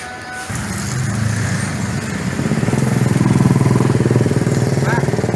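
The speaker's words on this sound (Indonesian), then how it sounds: "Ini gas buangnya." Exhaust of a Mitsubishi Pajero Sport Dakar 2018 with the engine running, a steady close idle rumble that grows into a louder, rapidly pulsing throb midway through, with no talking.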